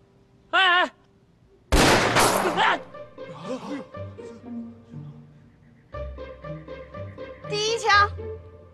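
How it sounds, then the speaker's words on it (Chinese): A single loud pistol shot bursts out in a Chinese wartime action-comedy film, preceded and followed by a child's and adults' talking. "站好了，我要开枪了。"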